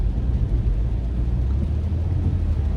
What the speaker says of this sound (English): It's raining, you guys,